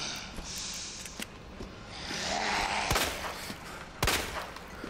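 Gunshots in the video game Resident Evil 2, a few sharp isolated shots spaced apart over a murky ambient background, two louder reports standing out near the end.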